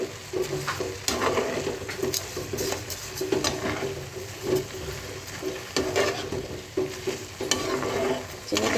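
Sugar stirred into carrot halwa frying in a pan: repeated scraping strokes of a spoon against the pan over a soft continuous sizzle, close and fairly loud, with no talk.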